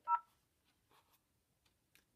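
A telephone on a PBX setup with pulse-to-tone conversion gives one short, clear touch-tone beep, followed by a few faint clicks in near silence.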